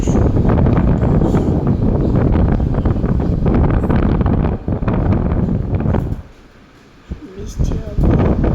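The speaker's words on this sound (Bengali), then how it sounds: "এত সুন্দর বাতাস" A strong gusting wind before rain roars and buffets the microphone almost without pause, briefly dropping away before surging back under a heavy cloudy sky.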